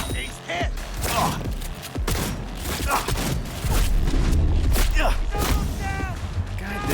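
Shotgun blasts and combat noise from the video game Cyberpunk 2077, a dense run of booming shots and thuds layered over continuous game sound effects, loud and close throughout.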